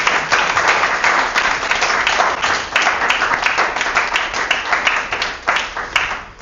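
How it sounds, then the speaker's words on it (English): Audience applause at a talk event, steady dense clapping from many hands filling the whole stretch, loud and close with no voices over it. "Maybe you can give her another applause"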